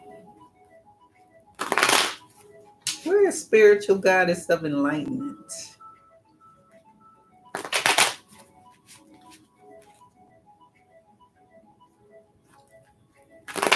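Tarot reading cards are shuffled in two short, crisp riffling bursts several seconds apart, with a person talking between them against an otherwise quiet room.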